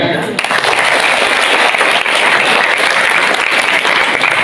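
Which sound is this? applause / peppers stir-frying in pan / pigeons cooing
applause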